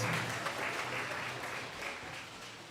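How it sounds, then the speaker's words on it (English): A synagogue audience at a Purim play applauds the cast, steady clapping heard at moderate distance that gradually eases off toward the end. "give another round of applause for this amazing cast"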